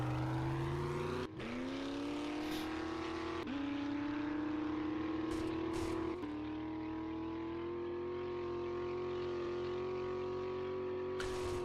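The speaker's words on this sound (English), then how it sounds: "It's the loudest truck in history." A loud engine drones close by, rising in pitch as it revs through several gear shifts, its roar steady and heavy throughout.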